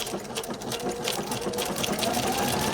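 Sewing machine running a slow stitch with metallic thread, a steady close mechanical whirring hum with a rapid rhythmic needle beat throughout.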